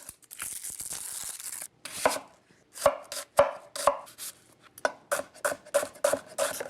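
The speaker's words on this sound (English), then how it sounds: "I'm gonna chop my ingredients" A knife rough-chops an onion on a cutting board, sharp close thuds in quick irregular bursts of several strikes, with brief quiet gaps between.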